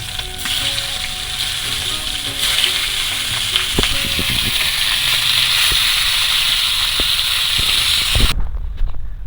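Silver carp pieces sizzle loudly in hot oil in a kadai, a dense steady crackling hiss broken by occasional utensil clinks, cutting off abruptly near the end.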